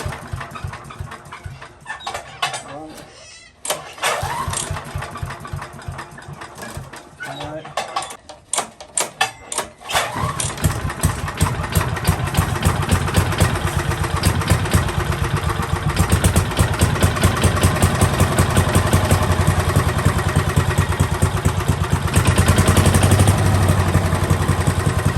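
Small engine on an MTD chipper shredder, just serviced with its fuel bowl cleaned, sputters and coughs through starting attempts, then catches and settles into a steady, loud running drone that continues to the end, with no talk.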